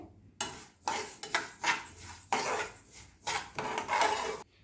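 Horse gram dry roasting in a pan crackles as it is stirred, with repeated scraping bursts and small pops in an uneven rhythm, close and fairly loud, with short pauses between strokes.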